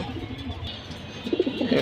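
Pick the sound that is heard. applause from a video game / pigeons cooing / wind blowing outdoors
pigeons cooing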